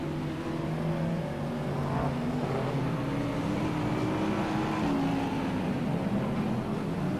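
Stock cars racing at a 1999 Auckland teams championship, a dense roar of several engines droning and shifting pitch together, continuous and fairly loud from a short distance.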